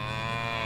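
A cow lets out a single low, drawn-out moo in the medieval farming game Medieval Dynasty, loud and close, with no voices over it.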